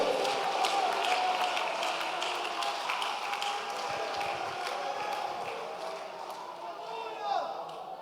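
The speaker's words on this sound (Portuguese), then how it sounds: "Aplauda Ele, dê glórias ao nome daquele que vive e reina para sempre" A congregation applauding during an evening church service, a sustained crowd of scattered claps rolling on for several seconds at moderate distance, mixed with voices and slowly fading.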